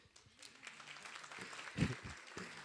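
An audience at a business talk applauds a participant, with moderate, fairly soft clapping that builds slightly and includes a few louder individual claps, with faint voices underneath.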